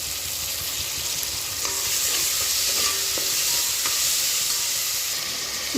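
Tomatoes and ginger garlic paste sizzle steadily in a hot pan for mutton sukka, a dense continuous frying hiss with a few soft stirring clicks partway through, close and even in level.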